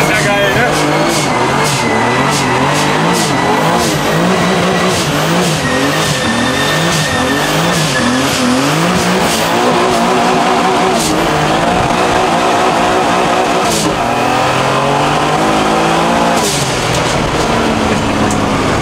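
Cars doing burnouts at the PS Days 2023 tuning event, with loud sustained engine revving and screeching tire squeal running continuously under a noisy crowd, with people talking throughout.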